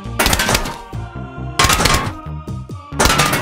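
Rapid bursts of cartoonish shooting from a mutant Peashooter in Plants vs Zombies, loud percussive volleys in three clusters with game music and short tonal effects between them.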